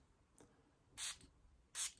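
A pressurised perfume atomizer with a wooden cap fires two sharp, hissing sprays, each about a quarter second long, close to the ear and well separated, with a faint click just before them.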